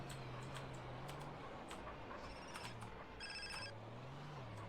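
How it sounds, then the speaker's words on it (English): A phone rings in GTA San Andreas, faint repeated electronic tones over a dense rumbling game soundscape with scattered clanks and crashes. "Why is my phone call ringing?"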